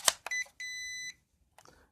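A MENGTUO M9955 GPS drone controller gives short electronic beeps as its buttons are pressed, a couple of brief chirps followed by one longer steady tone, then quiet clicks.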